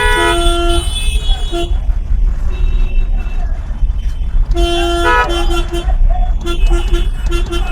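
A loud, steady vehicle horn blares in repeated toots over rumbling engine noise, with several short honks toward the end.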